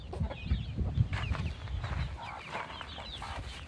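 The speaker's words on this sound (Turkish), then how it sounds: "Ha, bu horoz bu. Bu horoz." A village rooster clucks in short, repeated bursts nearby, with soft murmuring clucks and scratchy farmyard background sounds around it.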